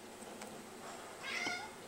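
One brief meow from a house cat rises near the end after a stretch of soft room tone, close by and moderately loud.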